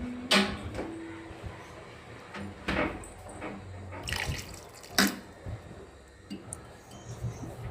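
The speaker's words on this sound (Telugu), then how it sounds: "మనం ఫ్రిడ్జ్లో నుంచి తీసిన కూల్ మిల్క్ని అలాగే కొన్ని కూల్ వాటర్ని పోసుకుందాం" Cold milk and cold water are poured from the fridge into a mixer jar while a cooling drink is made, giving a few wet splashes and drips mixed with light kitchen knocks and clatter at moderate level. No voices.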